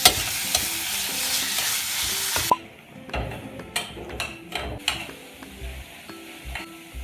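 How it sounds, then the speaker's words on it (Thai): Minced pork stir-fried with garlic in a pan over medium heat: a loud, dense sizzle at first, then scraping stirs and clinks over a lower crackle. "แล้วเราก็ใส่หมูสับลงไปผัดนะครับ"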